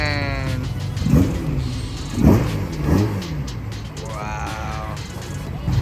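Nissan Skyline GT-R Hakosuka engine revving in a few rising bursts over a steady idle, fairly close, with people murmuring in the background.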